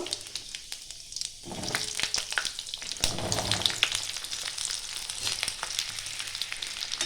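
Jujubes are tipped into hot oil with spice tempering for a pickle, bursting into loud frying and sizzling after a quiet second, with stirring clatters over a steady crackle.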